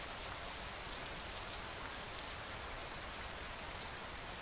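Heavy rainfall patters steadily on a surface close by, a uniform hiss of drops that holds level for the whole stretch, with nobody speaking.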